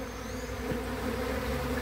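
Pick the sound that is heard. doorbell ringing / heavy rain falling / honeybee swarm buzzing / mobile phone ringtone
honeybee swarm buzzing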